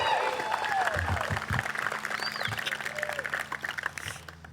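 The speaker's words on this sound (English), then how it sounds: "Sounds like a pretty solid crowd out here." Spectators at a disc golf tournament clap and cheer outdoors, a broad patter of applause that starts fuller and thins out, with a voice talking over it.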